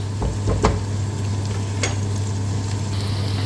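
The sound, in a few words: onions being sautéed in a pan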